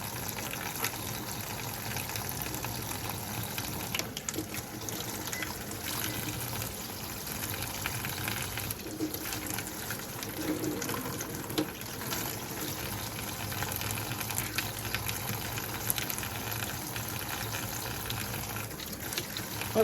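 Cold tap water runs over freshly broiled roasted red peppers as they are peeled, a soft continuous trickle and splash at moderate distance with slight fluctuations and no speech.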